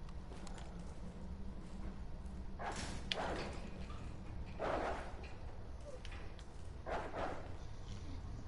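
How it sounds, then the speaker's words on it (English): Dogs barking in the video game Resident Evil 2 Remake: several separate barks, faint to moderate, spread over a constant hissing ambient background, with no talking. "I don't hear liquors, though. I think I hear dogs."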